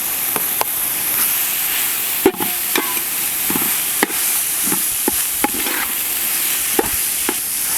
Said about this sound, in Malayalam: നമ്മുടെ പേസ്റ്റൊക്കെ ഒന്ന് വഴണ്ടി വരുമ്പോൾ നമുക്കൊന്ന് ക്യാരറ്റ് ഇട്ട് കൊടുക്കാം